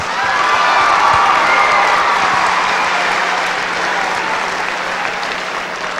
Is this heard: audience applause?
yes